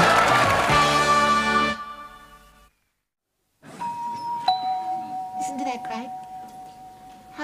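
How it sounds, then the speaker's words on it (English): A doorbell rings with bright ding-dong tones. A loud sustained chord comes first, then a short silence, then a softer bell tone over room sound and muffled movement. "Our very own doorbell."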